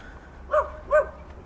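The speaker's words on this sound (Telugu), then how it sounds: "మలేషియాలో కూడా వీధి కుక్కలు ఉంటాయి. అయ్యే కొత్త మనుషులు చూస్తే అరుస్తాయి." Street dog in Melaka, Malaysia, giving two short, fairly distant barks about half a second apart against a quiet outdoor background.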